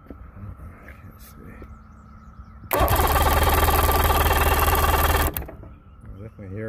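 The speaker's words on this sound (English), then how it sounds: "we're doing the spark test. It might fire." A 1996 Mercury outboard motor cranks loudly and steadily for about two and a half seconds during a spark test with no fuel line attached. Someone talks before and after the cranking.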